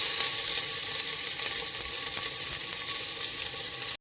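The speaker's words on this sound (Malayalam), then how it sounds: "ഇപ്പം നമ്മുടെ സ്പൈസസ് മൂത്തു ജിഞ്ചർ ഗാർലിക് മൂത്തു" Ginger, garlic and green chili frying with spices in a pan for a vegetable pulao, a loud, dense, continuous sizzle heard up close and alone, ending with an abrupt cut.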